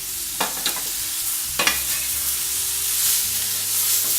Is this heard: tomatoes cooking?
yes